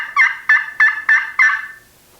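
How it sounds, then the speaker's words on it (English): A turkey slate call made by Buffalo Creek Calls, played alone in five evenly spaced, loud, raspy yelps with a short fade after the last one. "last but not least is a slate call"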